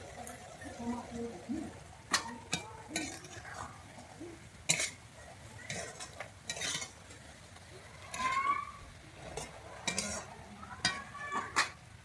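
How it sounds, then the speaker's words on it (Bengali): Fried cashews and raisins tipped into laccha semai in a pan, with a series of sharp clinks and scrapes of a utensil against cookware and soft stirring rustles, close and moderately loud, with light background noise. "এরপরে আমি দিয়ে দিচ্ছি ভেজে রাখা কাজু কিশমিশগুলো"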